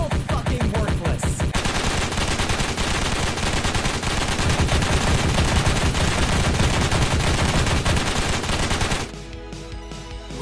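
Sustained automatic gunfire in the video game Payday 2 rattles continuously as suppressing fire, a loud dense stream of rapid shots that runs almost nonstop before cutting off near the end, leaving quieter ringing and scattered pops.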